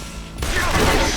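Enemy gunfire in the Yakuza: Like a Dragon video game erupts as a loud, dense burst of shots that starts abruptly and carries on without a break.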